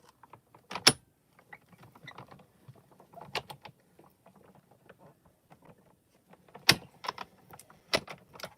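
Tape is peeled off a hot foil die stamping setup in short, sharp crackling rips with scattered small ticks and rustles between them, close and fairly quiet overall.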